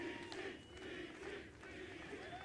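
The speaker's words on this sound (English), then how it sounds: "Crowd chanting DT" Packed stadium crowd at a Denver Broncos game chanting "DT" in unison, a distant, faint, rhythmic roar of many voices rising and falling.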